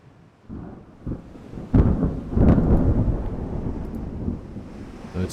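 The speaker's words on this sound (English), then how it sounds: "Now there's thunder." Thunder rumbles through a storm at sea in the naval game Ultimate Admiral Dreadnoughts, starting faint, then breaking into loud deep rolls with sharp cracks before slowly fading, no voices.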